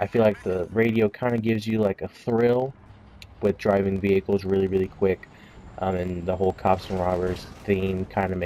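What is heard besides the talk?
No everyday noise stands out behind the speech.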